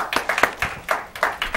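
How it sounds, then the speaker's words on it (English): An audience at a live local talk show clapping in a quick, steady, fairly close rhythm of distinct hand claps, short applause without voices. "Let's round of applause for them"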